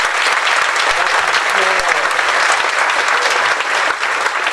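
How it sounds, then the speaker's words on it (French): Sustained audience applause filling the room during a theatrical performance, dense steady clapping from many hands, loud and continuous with faint voices underneath. "déjà on peut vous applaudir."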